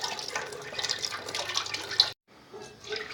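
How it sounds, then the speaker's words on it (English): A whole container of chicken broth pouring into a cooking pot, a steady liquid splashing and gurgling that cuts off abruptly, then a faint trickle resumes. "I'm gonna put a whole container of chicken broth in here."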